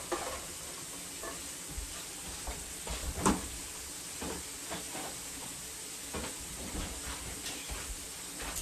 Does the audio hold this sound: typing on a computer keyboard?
no